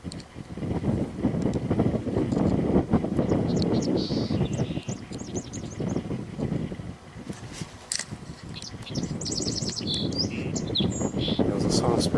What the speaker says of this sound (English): That was a song sparrow we just heard.